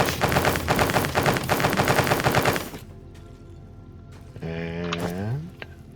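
Rapid machine-gun-like bursts from a factory machine in the video game Foundry, loud and dense for about three seconds before cutting off, followed by quieter tonal chimes and a rising beep.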